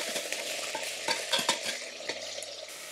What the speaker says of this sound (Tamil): அதை போட்டு வதக்கிக்கலாம்.